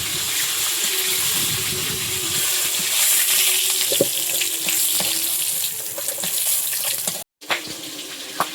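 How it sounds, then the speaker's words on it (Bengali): Magur catfish frying in hot oil, a continuous close crackling hiss with scattered sharp pops and spits, steady in level for several seconds before a brief drop and a return. "ওদিকে মাগুর মাছ ভাজা হচ্ছে, এটা ফুটফাট করে ফাটছে"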